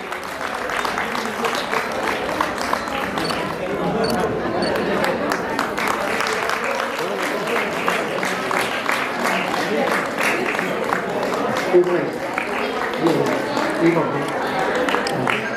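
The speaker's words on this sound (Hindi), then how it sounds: "जोरदार तालियों से इनका स्वागत करेंगे" Continuous crowd clapping greets marathon winners at the Basant Panchami fair in Kanvashram, Uttarakhand, a steady mid-distance patter running the whole time beneath an announcer's voice.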